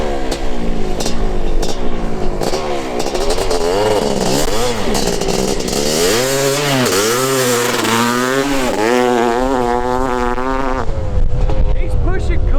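A worn Honda CR500 two-stroke dirt bike revs hard on sand at a drag strip, a loud buzzing engine climbing and dropping through repeated throttle sweeps, close by.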